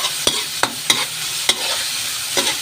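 Garlic frying in a pan with a steady sizzle, stirred by a utensil that scrapes and knocks against the pan several times in an uneven rhythm, close and fairly loud.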